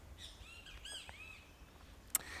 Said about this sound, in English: the bird that's actually sat on the wire